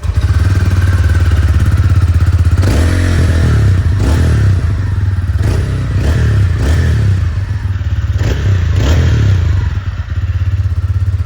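A TVS Ronin motorcycle engine runs steadily and loud, its low exhaust note droning throughout with several sharp thumps and clattering bursts over the top, and no voices present.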